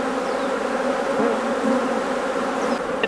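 Dense, steady buzzing of many honeybees close by, a continuous droning hum without pauses.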